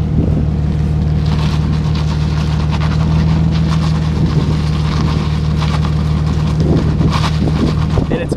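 A car with a welded differential backs out of a parking spot, its engine running loud and steady with a continuous drone and rumble close to the microphone, plus some wind buffeting.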